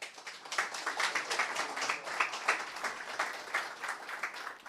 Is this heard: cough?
no